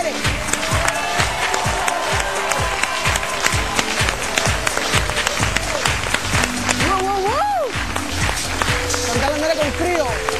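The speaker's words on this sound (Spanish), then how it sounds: "Vamos a recibir con un fuerte aplauso a una de las artistas jóvenes más versátiles y más queridas de México, Chantal Andere." A television studio audience on a Mexican variety show applauds and cheers loudly to welcome a young actress, the dense clapping steady throughout with voices calling out over it.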